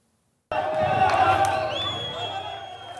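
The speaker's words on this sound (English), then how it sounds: "Their entrance was met with cheers and applause." Crowds in Bukavu cheer and applaud as M23 rebels enter the city, a sudden dense roar of voices and clapping that starts abruptly and holds steady with shouts and a rising whistle or cry over it.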